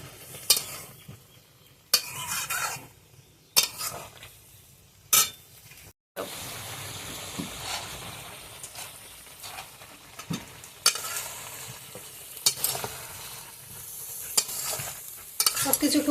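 Drumstick vegetable curry sautéed in a pan with little spice, repeated bursts of spatula scraping and clinking against the pan over a continuous sizzle, close by and with no voices.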